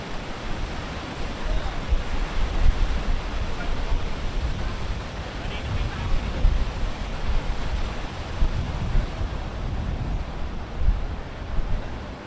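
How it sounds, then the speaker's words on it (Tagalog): Strong sea waves break on Boracay's White Beach, a dense continuous wash of surf with low rumbling swells, steady and fairly loud throughout, with no clear speech. "Lakas pa rin ng alon."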